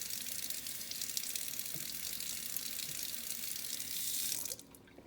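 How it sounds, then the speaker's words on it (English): A gentle stream of tap water runs steadily, soft and close, then stops abruptly near the end; no talking. "you just run a gentle stream of water"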